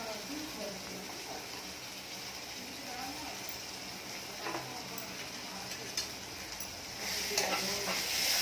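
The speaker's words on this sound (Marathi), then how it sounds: "हे व्यवस्थित परतून घ्यायचं." Onion, green chillies and tomato with salt sauté in a pan for thecha, giving a soft steady sizzle with occasional stirring clicks while someone talks over it.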